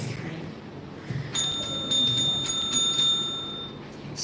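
A debate timekeeper's bell rings in a quick series of bright metallic dings, fairly close and clear over a quiet room hum, lasting a couple of seconds.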